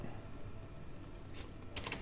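Typing on a computer keyboard to fix a title: faint scattered key clicks over low room noise, with a quick burst of several taps near the end, and nobody speaking.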